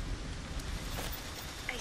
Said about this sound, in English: We're just sleeping to the rain.